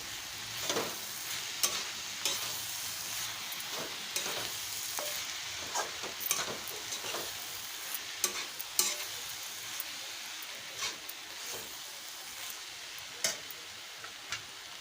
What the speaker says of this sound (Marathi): आता हे उकडलेला बटाटा त्यामध्ये घालते आणि भाजी मिक्स करून घेते